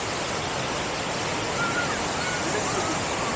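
Niagara Falls roaring in daytime, a broad, steady wash of rushing water heard from a distance, constant and even throughout with no breaks.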